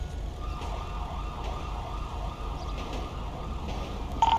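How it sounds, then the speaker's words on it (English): An ambulance siren in the GTA 5 video game wails steadily at moderate level over a constant low engine and traffic rumble. "Dispatch, send an ambulance, please."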